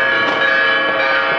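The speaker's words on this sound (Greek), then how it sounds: "Οι καμπάνες χτυπούν." Church bells in Kalymnos harbour ring for the Easter Resurrection, a loud, rich metallic tone with long, shimmering overtones that holds steadily throughout.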